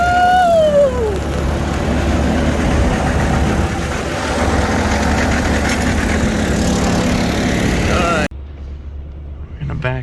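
A tractor engine runs steadily at close range, a continuous low rumble that holds for about eight seconds before dropping away abruptly, with a person speaking briefly over it.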